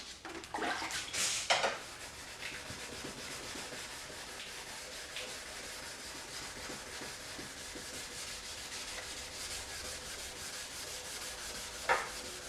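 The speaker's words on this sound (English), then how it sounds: "I'm just using a little sanding block, and I'm gonna just cut a little section out of the 400, and we're gonna hand sand this real quick" A 2016 Acura TL headlight lens is hand sanded with 400 grit paper on a small sanding block, giving a soft, steady rubbing scrape. A louder stroke comes near the start and another near the end.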